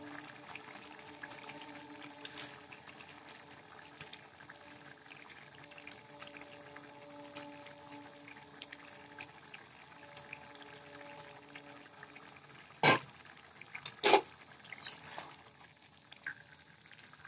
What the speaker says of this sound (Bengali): এখন তো বাড়িয়ে দিয়েছি, ফুটছে